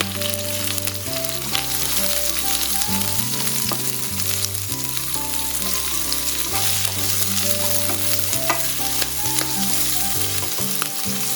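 Sliced large onion and four long-cut green chillies frying in a pan for a brinjal stir-fry, a loud, steady close sizzle with occasional stirring clatter and an ongoing tonal hum underneath, no talking.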